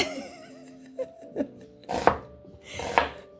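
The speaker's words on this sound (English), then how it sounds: "I'm cutting the onions." Onions being cut with a knife on a board at home while making cream of broccoli soup: a few close chopping knocks, with light laughter and voices around them.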